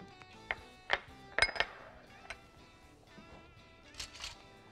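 A metal frying pan is pulled out and set down on a kitchen counter, giving a few sharp clinks and clatters, then a quieter knock and a final rattle, close and otherwise quiet.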